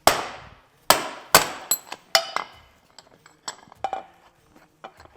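Metal tools clank against a Ford Bronco steering rack as a puller draws a bearing off, giving a series of sharp hammer-like knocks and clinks, loud at first and then lighter and scattered, close up with no talk.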